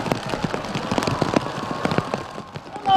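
Heavy rain falling at an outdoor candlelight vigil, a constant hiss of downpour with sharp drops and spatters striking surfaces close by, ending in a louder burst.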